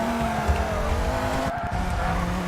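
A 1960s GT car in TOCA Race Driver 3 brakes hard while its rear slides out, the engine drone joined by scrubbing tire noise and a brief chirp of skidding rubber.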